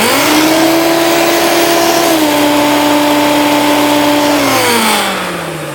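Hoover Turbopower upright vacuum cleaner running in boost mode with a rattly sound: a loud, steady motor whine that holds a constant pitch, then winds down slightly near the end.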